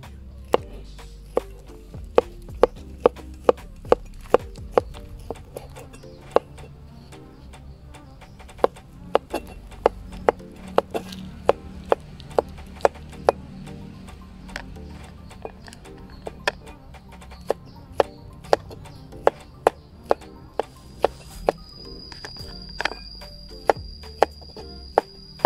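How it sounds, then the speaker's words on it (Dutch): Knife chopping baksel for bami goreng on a board, sharp close knocks in an irregular run, some bunched together and others spaced apart, with no one talking. "en nu ga ik de baksel snijden"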